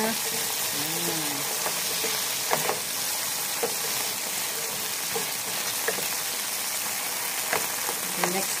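Onion frying in hot oil in a pan gives a steady, bright sizzle that holds throughout, with a few sharper crackles and pops and brief voice moments over it.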